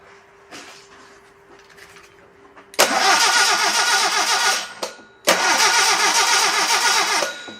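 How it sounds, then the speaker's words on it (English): A 1958 Volkswagen engine with no spark, cranked by the starter in two loud, whirring bursts of about two seconds each that fail to catch, after quiet shop sounds. "Where's our crank button?"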